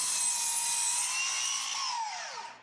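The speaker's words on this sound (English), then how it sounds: "Then I can set the miter saw to 2 degrees and cut." A miter saw set to a 2-degree angle cuts through a wooden stud with a high, sustained whine that drops in pitch and fades as the blade spins down.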